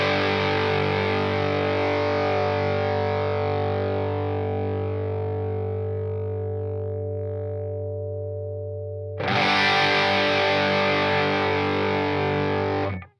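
A guitar chord through a Quilter Toneblock 202 amp with breakup rings out loud and close, slowly decaying over nine seconds before a second strum hits and sustains briefly, then cuts off.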